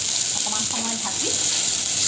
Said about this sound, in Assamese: অকণমান সময় ভাজি